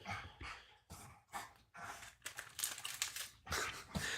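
A dog moves around on a floor nearby, rolling and shuffling, with crinkling, scratching bursts that come and go in an uneven rhythm, alone and with no talk.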